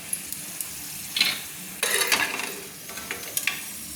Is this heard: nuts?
yes